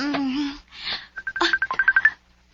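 After a brief voice, a cellphone rings with a rapid run of short electronic beeps, fairly close, followed by a pause.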